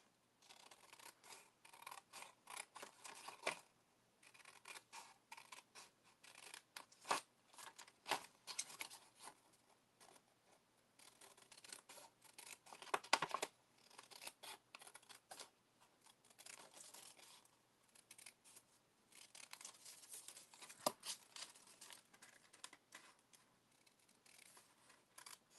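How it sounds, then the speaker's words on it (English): Craft scissors cutting paper, a series of quiet, irregular snips and crisp rustles in scattered bursts, close up, with no talk. "I'm just going to use my scissors."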